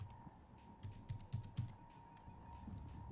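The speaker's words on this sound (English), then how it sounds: "My keyboard is just loud, and the mic is sitting directly next to it." Loud computer keyboard typing caught by a microphone sitting right beside it, a run of close, sharp clacking keystrokes in uneven bursts over a steady low background hum, with no talking.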